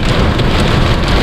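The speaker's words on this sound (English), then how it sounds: "It's hail. It's a bit wet out there." Hail falls outside in strong wind, a loud, dense and continuous drumming with a steady roar and no voices.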